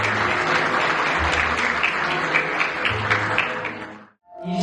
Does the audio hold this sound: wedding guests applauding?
yes